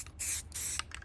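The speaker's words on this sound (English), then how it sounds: "I'm just giving little bursts of spray" Quick bursts from a spray paint can, two longer hisses then a few short puffs, close and fairly quiet, applied lightly to avoid pooling.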